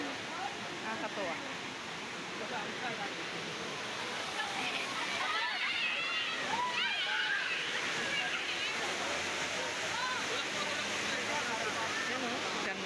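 Water pours steadily at a waterfall, a constant rushing hiss heard from a moderate distance, with faint voices mixed in.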